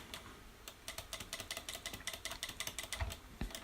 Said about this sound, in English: Notice I'm clicking multiple times to get the smooth to really be smooth.